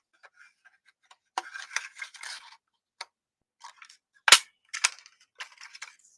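A craft punch snaps through patterned paper to cut 1-inch circles, giving a handful of sharp, close clicks and crunches with brief quiet gaps between presses.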